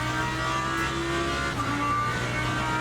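A McLaren race car in Le Mans Ultimate at Sebring gives a steady, droning engine whine that holds near and even throughout, with no voices.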